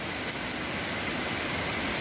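Steady rain falls in Sirsa, Haryana, just after Diwali, a dense continuous hiss of drops striking surfaces nearby, loud and even throughout with no voices.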